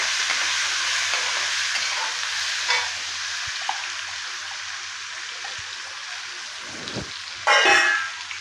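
Onions frying in hot oil with curry leaves and chillies for poha upma, a continuous hissing sizzle with occasional soft clinks and a brief louder burst of scraping near the end.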